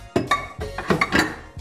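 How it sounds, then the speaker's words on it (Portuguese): Metal cooking pan handled in a kitchen while preparing a white sauce, giving several close, loud clanks and knocks with ringing metallic overtones in uneven succession. "E vou pegar uma outra panela para a gente poder fazer o molho branco"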